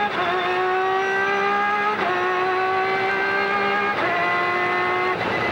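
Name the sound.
onboard SRP2 race car lapping at Fontana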